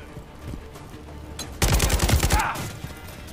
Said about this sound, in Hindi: भाई, बमबारी हो रही है फुल।